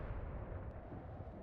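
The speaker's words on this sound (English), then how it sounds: "Explosions, tracers." Artillery fire and explosions rumble through a battlefield in the World War II strategy game Mius Front as a dense, continuous low roar without distinct separate blasts.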